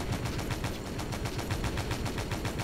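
Rapid automatic gunfire from a ship's gun in Stormworks, an even, fast rattle of shots repeating steadily throughout at moderate loudness, with no talk.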